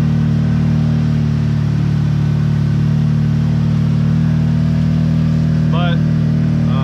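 A loud 2022 CFMOTO UFORCE UTV engine idles with a steady, deep droning tone, close and constant, with a brief faint squeak near the end.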